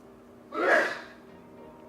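A single quick, breathy sneeze from someone in a quiet room, a short sharp burst of about half a second that fades into near silence.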